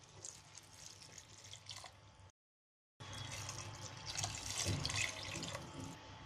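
Two glasses of water poured into a pot of Gujarati toovar dal with oil, ginger paste and spices, heard as two close, splashing pours separated by a brief silence.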